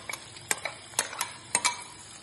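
Egg and potato gravy is stirred into pilau cooking in a pot, with a few sharp spoon clinks and scrapes against the pan over a faint sizzle, close and alone.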